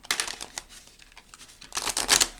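Tarot cards being shuffled by hand, giving quick close riffling and flicking bursts that swell near the end.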